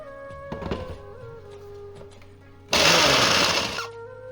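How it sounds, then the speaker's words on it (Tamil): A mixer grinder whirs loudly for about a second while powdering almonds, pistachios and cashews, a short burst of grinding noise that starts abruptly and cuts off, following quieter kitchen handling sounds. "இப்போது இந்த பாதாம், பிஸ்தா, முந்திரியை மிக்சியில் சேர்த்து கொரன்னு பவுடர் பண்ணி எடுத்துக்கலாம்."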